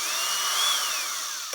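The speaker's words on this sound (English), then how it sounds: "you bring the drill in" Battery drill lapping an exhaust valve into its cut seat, the oily valve shank spun against the seat; a steady, close, high whirring motor that rises slightly in pitch midway and then eases off, with no talk.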